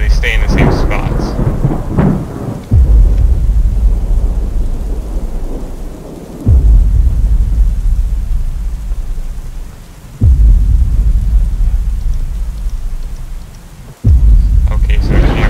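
Rumbling thunder crashes in the Slenderman's Shadow video game mansion level: four loud, sudden booms, each followed by a long rolling decay over steady, heavy rain hiss.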